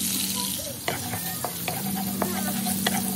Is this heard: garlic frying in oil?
yes